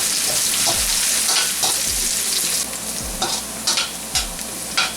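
Onion fries in half a cup of hot oil over high heat, a constant sizzle with a spatula scraping through the pan about once a second.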